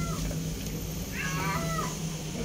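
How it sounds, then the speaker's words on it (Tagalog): A cat gives a single faint meow over steady background hum, at a moderate distance, with no one talking. "Pusa sa bubong."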